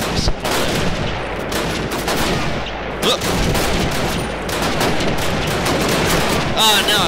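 Dense, continuous gunfire in Call of Duty, with rapid overlapping shots and bursts filling the whole stretch at close range, loud and unbroken.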